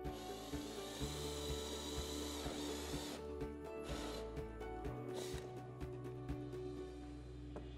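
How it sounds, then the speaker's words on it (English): A power drill whirs steadily at close range, its motor pitch shifting as the bit grinds through plastic, with rubbing and scraping sounds throughout. "First, drill a hole."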